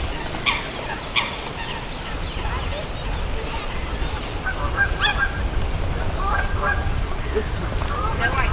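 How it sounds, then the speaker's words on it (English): Geese honking in a park, several calls scattered over steady outdoor background noise, moderately near. "there's birds everywhere"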